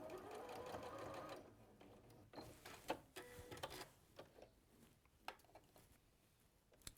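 A sewing machine stitches fabric with a steady close whir for about a second and a half, then gives way to scattered clicks and light handling knocks while loose thread ends are pinned aside.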